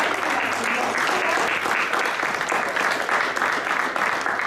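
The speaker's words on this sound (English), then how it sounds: "Let's give them a big round of applause." Loud, continuous audience applause for the judges at a university business innovation contest, dense clapping with slight pulsing swells across the whole span.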